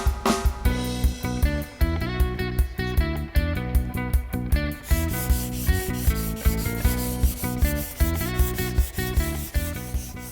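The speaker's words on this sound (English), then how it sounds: "a little more sanding" Hand sanding across primer on a 1972 Chevy Nova cowl induction hood makes a rhythmic series of close, gritty rubbing strokes, each pass swelling and fading in a steady back-and-forth beat over background music.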